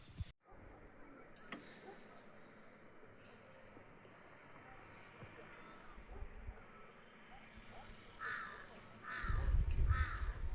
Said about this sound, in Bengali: নিজেদের মতন খেলা করছে পাখিগুলো,